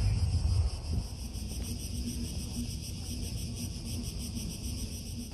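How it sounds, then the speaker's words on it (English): Cicadas shrill on a hot summer afternoon in Athens, a dense, steady, pulsing chorus high above a low rumble of breeze against the microphone. "This is just summer afternoon breeze, cicadas, the heat."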